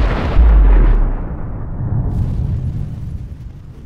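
An asteroid impact explosion sound effect: a loud, deep boom that swells quickly and then rumbles on in a long, fading roar.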